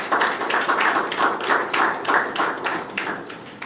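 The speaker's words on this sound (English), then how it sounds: "I think we need to give Assemblyman Pollard a very warm, loud round of applause." A small gathering claps in a round of applause at a partnership launch event, the hand claps close and rhythmic, swelling in uneven waves.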